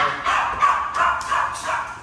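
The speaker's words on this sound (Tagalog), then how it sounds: "Aso ni Kuya." A dog barks outdoors at a house, giving about five sharp, fairly close barks in an even rhythm, each followed by a brief gap.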